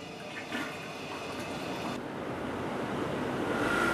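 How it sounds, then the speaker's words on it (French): A Japanese toilet flushes with a loud, steady rush of water that shifts partway through and keeps going to the end, with no other sound around it. "il ne vous reste plus qu'à tirer la chasse"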